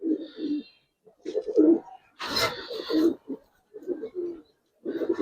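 Giribaz colouring pigeons coo in a close series of low, throaty murmurs, with short pauses between calls and one brief burst of flapping or rustling partway through.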